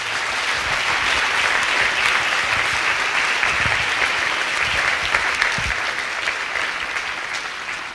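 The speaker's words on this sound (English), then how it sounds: "Let's applaud them once more." At the Agile Greece Summit, an audience gives speakers a steady round of applause, broad and fairly loud, continuing evenly for several seconds with a few scattered thumps beneath it.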